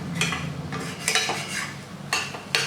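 Prawns sauté in a pan, a soft sizzle broken by several brisk stirring scrapes and spatula knocks close by, with no one speaking.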